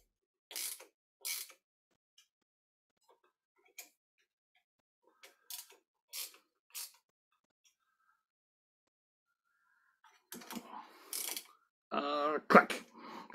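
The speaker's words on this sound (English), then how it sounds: "we're going to do the final tightening." A ratchet clicking in short separate bursts while a bolt is brought to final torque, close and crisp with quiet gaps between, and a person speaking near the end.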